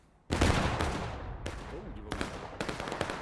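Rifle volleys in War of Rights, a Civil War battle game with a large crowd of players: a sudden loud crash of massed musket fire, then several more ragged bursts of shots in quick succession, with faint voices underneath.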